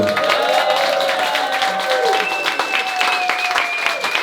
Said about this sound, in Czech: To se zaslouží potlesk.